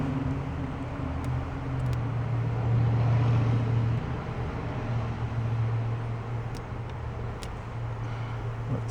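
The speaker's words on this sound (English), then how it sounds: "So much traffic noise I can't hear it." Road traffic passes near someone working on a 1969 VW Fastback, a steady rumble of vehicles that swells in the middle as something drives close, then settles back to a broad, constant wash.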